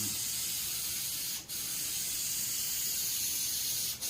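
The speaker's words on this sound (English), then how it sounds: "so far it's spraying good" Iron Armor truck bed liner sprays steadily from an aerosol can onto a Geo Tracker's car hood, a close, continuous hiss broken by two brief pauses.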